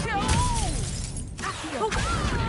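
Reducto spell blasts in Hogwarts Legacy: a sharp shattering crash with a whooshing burst, breaking objects apart amid game sounds, with bending musical tones through the short stretch.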